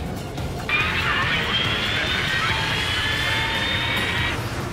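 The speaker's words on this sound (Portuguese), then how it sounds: "Nesse caso é um Osprey, o V-22." A V-22 Osprey tiltrotor in Ace Combat 7 taking off with a steady, loud engine whine and rising turbine tone that holds for several seconds, then cuts off abruptly.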